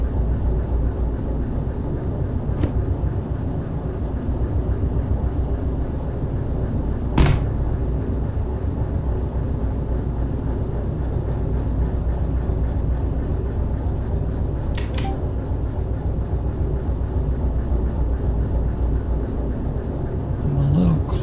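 A locomotive in the rail simulation game Derail Valley runs with a steady low droning rumble throughout, broken by a few sharp clicks and knocks.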